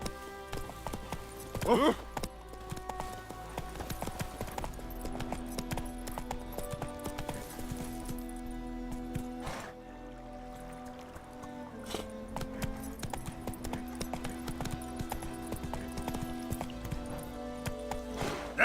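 Hooves of the horse Roach in The Witcher 3, a steady clip-clop rhythm of trotting running for the whole stretch at moderate level, with a brief exclamation and faint background sound.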